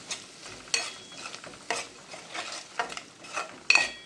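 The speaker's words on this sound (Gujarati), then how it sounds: "હવે છે ને બધાને મિક્સ થવા દેવાનું છે." A spoon scrapes and stirs Bhetki fish keema in a pan, with several sharp clattering strokes at irregular intervals over a soft sizzle of frying.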